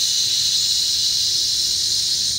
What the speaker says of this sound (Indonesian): Karena kalau nginjek kopling, nah dia bunyinya seperti itu, kayak mobil truk buang angin.